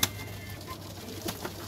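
Punjabi pigeons give a few soft coos at a low, steady level over a faint constant hum, with no voices.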